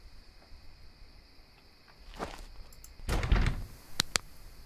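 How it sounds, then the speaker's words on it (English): Door locking in the horror video game Oakwood: a soft thunk, then a louder metallic clunk and latch clicks over quiet room ambience, with no talking. "The door has been locked."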